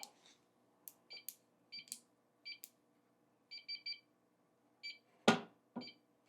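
A Vaiyer safety box vault keypad gives short electronic beeps, single and in quick pairs or triplets, at irregular intervals in a quiet room, with a louder handling thump near the end.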